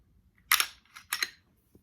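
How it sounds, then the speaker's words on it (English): A pistol trigger is pressed on an empty magazine, giving a few small, sharp mechanical clicks close by in a quiet room. "Okay, so look, I'm gonna press the trigger."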